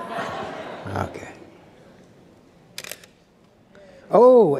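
An old-fashioned camera shutter clicks once, sharp and brief, among people talking and chuckling, with a short burst of laughter at the end.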